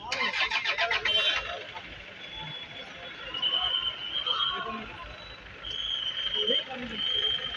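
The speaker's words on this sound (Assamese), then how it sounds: "আপোনালোকে দেখি পাইছে এখন এখনকৈ গাড়ী আহি আছে বাহিৰৰ পৰা।" A convoy of cars, police vehicles among them, rolls past with engines running, a steady mid-level motor hum rising and falling as each passes, while people talk over it and a short electronic beeping sounds early.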